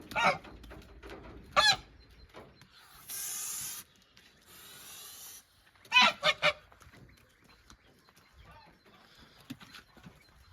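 Geese honk in short bursts, several calls in quick succession, separated by stretches of rustling and a steady hissing spray.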